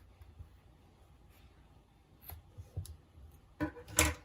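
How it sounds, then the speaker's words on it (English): Scissors snip through yarn from an amigurumi ice cream cone, a quiet close cut with a small click near the end, with no voices. "Pull through and cut your yarn."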